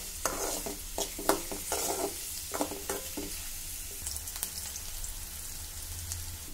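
Chopped onion sizzles in hot oil in a pan while being stirred for white pasta, with a steady frying hiss broken by clustered scraping stir strokes, heard up close with no talking.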